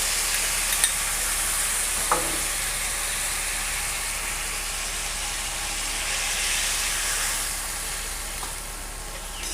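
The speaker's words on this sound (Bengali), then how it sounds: "এবার আমি এর মধ্যে জল দিয়ে দিচ্ছি।" Water poured into fried spice paste in a pan for hilsa pulao sets off a loud, steady sizzle and hiss that continues evenly throughout, with faint stirring scrapes.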